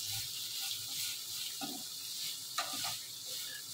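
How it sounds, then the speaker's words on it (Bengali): Carrots frying in a pan, a soft continuous sizzle with a few scraping stirs and clinks partway through, fairly quiet and with no talk. "আগে গাজরটা ভেজে নেবো, তারপরে ক্যাপসিকামটা দেবো।"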